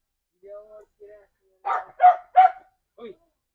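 A nearby dog in a bougainvillea garden lets out a few short barks and yips in quick succession, with a whiny tone at the start.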